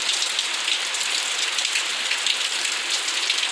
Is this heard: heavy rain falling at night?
yes